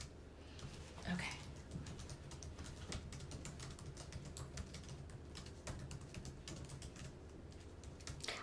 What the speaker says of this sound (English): I'm typing the question,